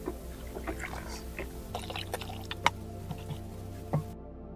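Two litres of water poured into a homemade all-in-one liquid fertilizer mix after milk has been added, a soft trickling pour with scattered small clinks and drips, fairly faint and close, with no talk over it.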